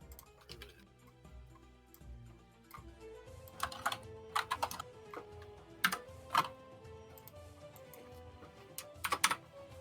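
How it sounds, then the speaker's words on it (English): Someone types on a computer keyboard during an online tabletop game, with scattered quiet taps and a few sharper bursts of rapid keystrokes, close and with no talking. "I figure out how to type a command."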